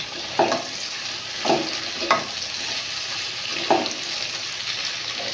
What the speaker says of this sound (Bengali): সেটা ঢাকনা খুলে দিয়ে একটু নেড়ে দিচ্ছি